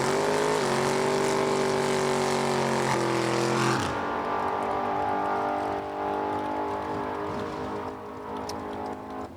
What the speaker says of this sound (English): Going to be the first two to go down the racetrack, round number 1 of time trials for Super Street.